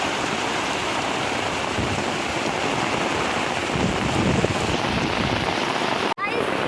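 Heavy rain pours over an open paddy field in a steady, dense roar close to the microphone, with wind buffeting it, unbroken for several seconds before a brief dropout.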